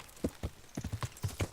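Horse hooves clip-clop in Kingdom Come: Deliverance, a quick run of about eight hollow thuds at an uneven trotting rhythm, close and clear with no talk over them.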